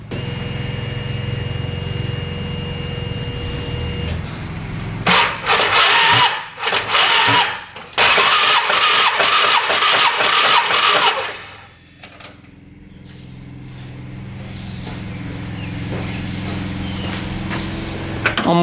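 UTV engine cranking over with the throttle open for a cylinder compression test, a loud, rapid, rhythmic churning burst of several seconds framed by quieter workshop hum.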